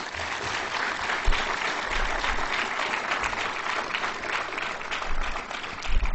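An audience at a town meeting claps in a loud, continuous burst of applause that holds steady throughout.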